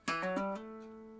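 A single plucked guitar note slides quickly upward into a sustained, ringing tone that slowly fades, played alone and close.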